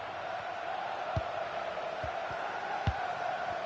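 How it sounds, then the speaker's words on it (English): Stadium crowd noise from an FC26 football video game during a UEFA Champions League Round of 16 match, a steady, dense roar throughout with a few soft thumps standing out. "just listen to this crowd. They want a bit more."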